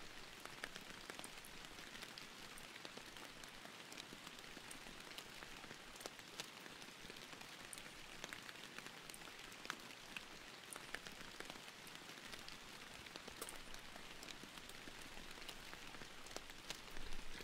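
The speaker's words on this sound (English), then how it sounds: "It is a very relaxing game to just sit in the rain in." Rain falling in the game Fishing Planet: a steady, even hiss of rain on surfaces with scattered soft drop ticks, constant and gentle throughout, with no voices.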